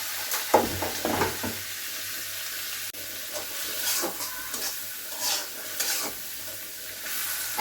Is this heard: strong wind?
no